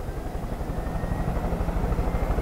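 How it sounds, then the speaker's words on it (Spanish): A helicopter in Far Cry 5 drones steadily, its rotor beating in a fast, even chop over a loud engine hum with no talk. "Acá hay un helicóptero. Toma, manejamos el helicóptero."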